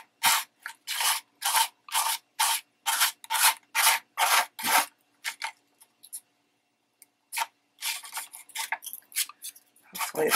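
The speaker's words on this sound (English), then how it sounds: "I just sand the edge, wait until it's dry" Edge of a scrap board book sanded by hand, heard as a quick run of rhythmic rasping strokes up close, then a short pause before more uneven scraping resumes.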